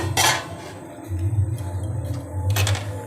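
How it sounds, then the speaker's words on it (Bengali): A metal lid is lifted off a steaming pot of besan khaman dhokla, giving a sharp clatter, then a quieter stretch and a second metallic clink near the end. "20 মিনিট হয়ে গেছে, আমি ঢাকনাটা তুলে দিচ্ছি।"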